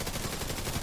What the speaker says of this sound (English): our goal is just to shoot all of these out and then start shooting with our gun.